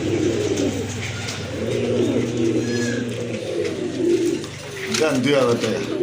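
Pigeons, both local and foreign breeds, coo repeatedly and steadily at a busy pigeon market, close by and fairly loud, while people talk throughout.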